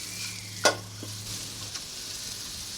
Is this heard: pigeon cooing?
no